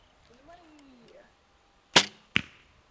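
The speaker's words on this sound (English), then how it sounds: "Oh my gosh, you just shot my arrow." Two sharp arrow impacts at a backyard target, the second arrow striking the first one already lodged there; faint tonal whistles precede a loud crack followed by a smaller one.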